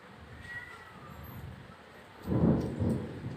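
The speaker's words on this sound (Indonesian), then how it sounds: "Wah, ada petir." A distant thunder rumble swells briefly in a home kitchen where chicken-filled tapioca meatballs are being made, a faint low roll rising out of quiet background noise.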